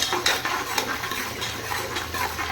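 Onions sauté in oil in a pan, soft sizzling under repeated scraping and stirring strokes of a utensil against the metal, close and continuous.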